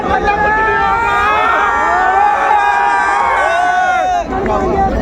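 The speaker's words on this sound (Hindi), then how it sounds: "एक बार जोरदार तालियां दोस्तों।" A large crowd at a public event in Noida cheers and shouts loudly and continuously, with whoops and overlapping voices filling the space, then dips briefly near the end before swelling again.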